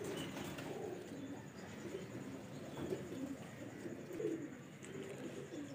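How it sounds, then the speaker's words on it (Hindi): Several Royal Taddy pigeons coo softly in low, throaty bursts, overlapping and repeating at an easy pace, with faint background noise. "डबल हड्डी के कबूतर हैं।"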